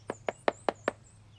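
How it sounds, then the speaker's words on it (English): Five evenly spaced knocks strike a door in a steady rhythm, close and crisp, over a faint low hum and a thin high tone, with no voices. "there was a loud knock on the door"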